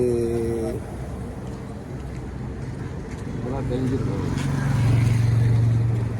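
Auto rickshaw driven along East Coast Road near Kanathur, a steady engine drone and road noise with a horn-like tone near the end, under ongoing talk from people riding.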